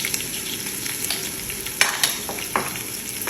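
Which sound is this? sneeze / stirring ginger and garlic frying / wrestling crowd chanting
stirring ginger and garlic frying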